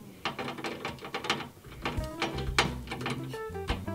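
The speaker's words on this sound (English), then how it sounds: "Is that screwing in at all?" A screw is driven in by hand while a PC is being built, heard as a close, rapid series of small ratcheting clicks and metallic ticks.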